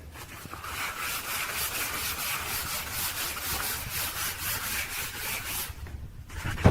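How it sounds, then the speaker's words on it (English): Wood painted with primer and paint being sanded by hand, a close, steady run of rhythmic scraping back-and-forth strokes that continues for several seconds before stopping abruptly. "that was just a little bit of sanding"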